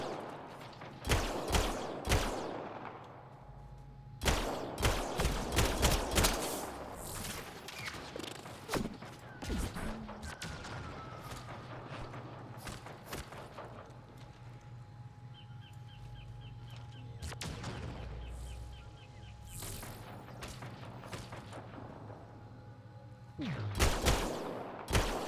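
Bursts of gunfire in the video game Mass Effect: Andromeda, sharp clusters of rapid shots at the start, around five seconds and again at the end, with sparser single cracks and quieter combat ambience between.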